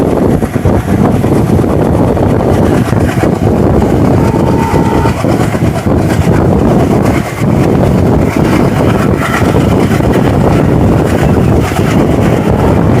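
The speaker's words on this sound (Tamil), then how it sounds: "WDM டீசல் இன்ஜினில் ஓடுற ட்ரெயின்." A WDM diesel locomotive hauls the Salem–Yesvantpur passenger express, a loud, steady rumble of engine and rolling wagons with wind buffeting the microphone throughout, heard close from on board.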